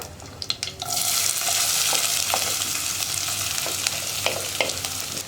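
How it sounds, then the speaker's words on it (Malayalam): Bitter gourd for thoran is stirred in a frying pan over low flame, a loud, even hiss of sizzling oil with repeated sharp scrapes and taps of a spoon against the pan. "ഇനി നമുക്കിത് നന്നായിട്ടൊന്ന് മിക്സ് ചെയ്യാം."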